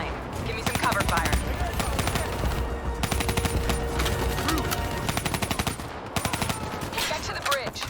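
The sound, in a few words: machine gun cover fire in the video game Call of Duty: Black Ops 3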